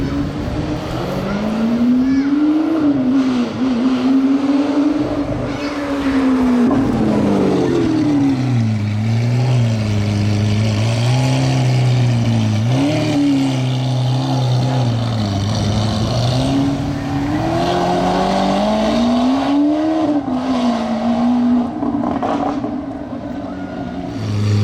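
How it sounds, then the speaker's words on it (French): An orange Lamborghini Aventador supercar rumbles loudly and close for the whole stretch in Juan-les-Pins, its engine pitch swelling and dipping as it slows and speeds up past. "j'entends l'Aventador orange qui revient"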